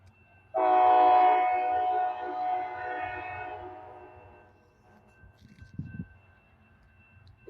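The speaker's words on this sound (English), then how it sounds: "It's a different train." A CSX freight train sounds its horn as it passes in Evans: one long, loud, blaring horn blast that fades out, followed by low rumbling and a short clatter of the rails.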